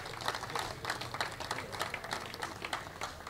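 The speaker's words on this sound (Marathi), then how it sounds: "याच्यासाठी टाळ्या झाल्या पाहिजेत" An audience at a cricket league prize ceremony claps in a steady, dense patter, heard from a distance and fairly faint, with no voice over it.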